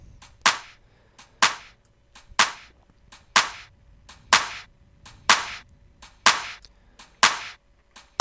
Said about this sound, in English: so we have the dynamics of this clap